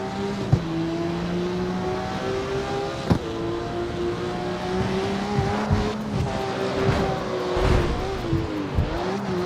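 Game car engines from CarX Street whine steadily at high revs, with several sharp tire squeals and skids breaking through the drone. The sound is loud and continuous with no talking.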